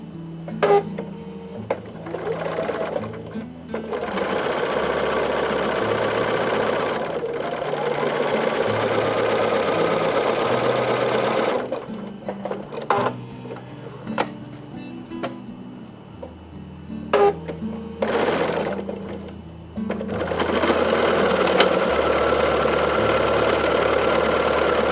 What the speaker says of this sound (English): And then I'm going to sew on the sew line.